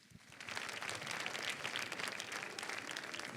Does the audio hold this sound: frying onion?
no